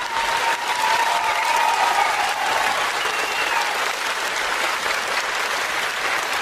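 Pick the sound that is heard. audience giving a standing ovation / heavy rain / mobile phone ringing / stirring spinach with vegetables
audience giving a standing ovation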